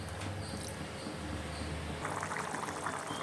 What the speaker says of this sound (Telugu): కొద్దిగా వాటర్ కూడా వేసాను.